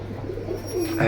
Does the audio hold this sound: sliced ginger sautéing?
no